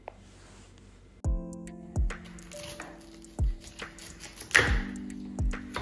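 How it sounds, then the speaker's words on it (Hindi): Knife cutting cauliflower into large florets on a board: several sharp chopping thuds at uneven intervals, close and fairly loud, with a faint ringing between strokes and no speech. "सबसे पहले हम फूल गोभी को काट लेंगे।"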